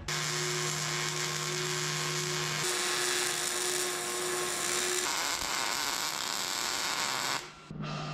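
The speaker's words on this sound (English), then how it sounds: "Gonna weld this baby up." Continuous electric buzzing hiss of a MIG welder laying beads on steel gussets and air bag mounts, steady and close for about seven seconds before cutting off abruptly, with no talking.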